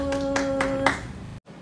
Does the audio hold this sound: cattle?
no